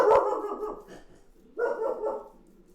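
A dog barks twice indoors, a close, loud woof followed after a short pause by a second bark that trails into a brief whine, with no talking over it.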